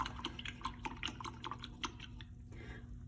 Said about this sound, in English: Now I need to wash my brush.